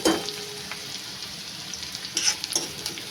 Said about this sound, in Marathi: कांदा व्यवस्थित लालसर परतून घेते